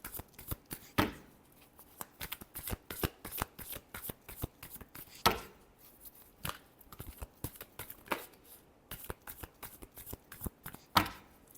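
Tarot cards are shuffled by hand in quick, crisp riffling bursts repeated at irregular intervals, close up and with no speech over them.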